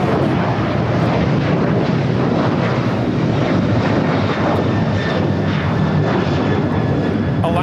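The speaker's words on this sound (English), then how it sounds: "Alaska Airlines Flight 6 taking off to Washington Reagan National on the 737-800" An Alaska Airlines Boeing 737-800 taking off from LAX, loud and close, a dense continuous engine roar with crackling, rumbling texture and a faint thin whine throughout, no voices.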